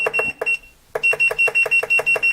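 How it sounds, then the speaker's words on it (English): Multimeter continuity tester beeping in rapid short pulses at a steady rhythm, a few beeps, a brief pause, then a quicker run of about nine, close and clear with no talk. "it's not gonna latch on continuity or actually beep that quick"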